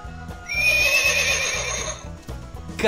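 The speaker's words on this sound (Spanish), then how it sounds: "Caballo." A horse gives a loud, drawn-out neigh that wavers for about a second and a half, over a rhythmic background beat, with a brief rising squeal at the very end.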